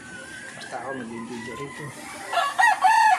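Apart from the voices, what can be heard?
chickens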